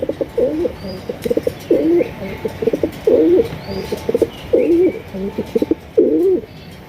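A male racer pigeon gives loud, close, repeated bursts of throaty cooing at an even pace, with faint chirps from other birds in the background.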